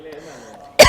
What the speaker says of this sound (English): I can feel a cough coming